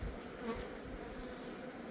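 Honeybees buzzing around their hive in the mountains, a steady dense drone of many wings holding even and close for the whole moment, with no voices over it.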